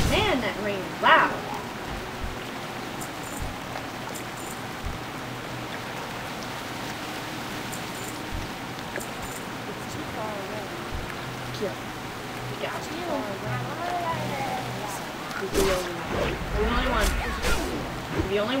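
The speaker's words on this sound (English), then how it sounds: "Man, that rain is loud." Steady heavy rain roaring over a surface, a constant dense hiss with occasional louder splashes and a few faint background noises.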